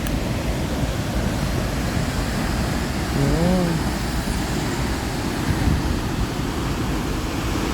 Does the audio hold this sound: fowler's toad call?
no